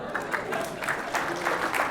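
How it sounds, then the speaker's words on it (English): Comedy club crowd claps steadily for a couple of seconds, a moderately loud, even patter of many hands with a few stronger accents, with no voices over it. "So one more round of applause for Randy."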